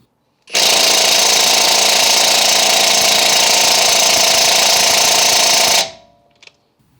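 A Hercules HCB89B half-inch high torque impact wrench with extended anvil hammers on a lug nut in one loud, sustained burst of rapid rattling impacts lasting about five seconds, close up, then stops abruptly.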